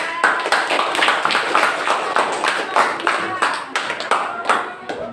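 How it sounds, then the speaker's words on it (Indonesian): A sixth-grade primary school class claps together in a steady, rhythmic pattern for several seconds, the hands close and loud in the classroom. "Beri tepuk tangan dulu"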